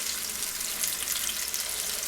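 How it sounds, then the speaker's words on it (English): Homemade meatballs sizzle and fry in a pan, a steady dense crackle that stays even and close throughout with no voices. "meatballs frying in the pan"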